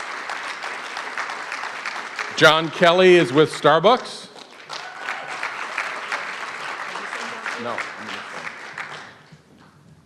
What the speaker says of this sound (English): Let's give her a round of applause as she comes to the stage